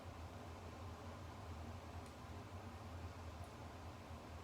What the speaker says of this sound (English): Right now I can hear my air conditioner vent running.